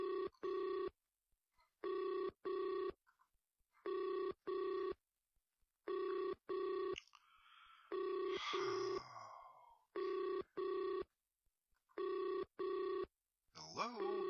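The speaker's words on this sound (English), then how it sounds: "Okay, I hear it ringing, and it's not letting me answer." Telephone ringing in a repeated double-ring pattern, about seven pairs of sharp electronic bursts separated by silence, with a person speaking between two of the rings.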